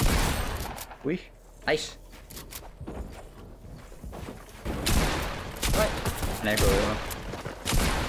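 Gunfire in the video game Fortnite, with a few sharp shots and bursts standing out against excited talking, which carries on around and over the shots.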